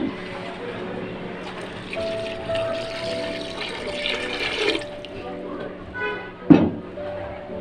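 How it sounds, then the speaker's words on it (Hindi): Water streams steadily into a pressure cooker for several seconds with a splashing rush, followed by a sharp clunk near the end. "इसमें हम डालेंगे 1 लीटर पानी।"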